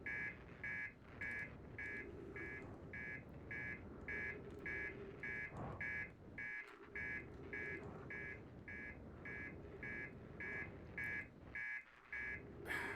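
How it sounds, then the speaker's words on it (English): A spaceship alert in the Outer Wilds video game beeps in a steady repeating pattern of sharp electronic tones, loud and close, with a low rumble beneath and a few brief thumps. "Quit your beeping."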